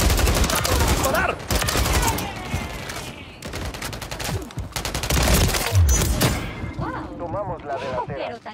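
Heavy automatic gunfire and rapid fusillades from a Call of Duty shooter match, loud and dense, with shouted voices in Spanish over the shooting.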